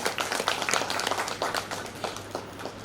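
A crowd at a poetry gathering applauds steadily, many hands clapping in a dense, continuous patter that holds throughout at moderate loudness.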